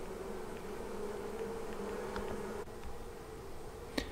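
Honey bees swarming out of an observation hive make a continuous buzzing hum of many insects, steady and moderately loud throughout, with a faint click near the end.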